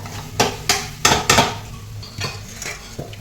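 Homemade red chilli powder, Kashmiri red chilli powder, turmeric and salt are stirred in hot oil in a pan for pav bhaji: several loud metal spoon scrapes and clanks over a faint sizzle, growing softer toward the end.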